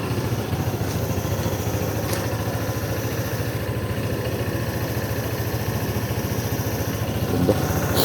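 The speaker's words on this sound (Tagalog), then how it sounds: "So winamorm up lang natin yung motor natin kasi bago siyang change oil." An ATR 160 motorcycle engine idles steadily while warming up after a fresh oil change, with a close, even, low putter and no change in pace.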